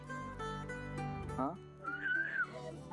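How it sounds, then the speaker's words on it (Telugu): A girl gives a short whistle on a Telugu TV game show, a single rising-and-falling tone heard briefly among other tonal sounds and voices in the studio. "మా అమ్మాయి విజిల్ కూడా వేస్తుంది."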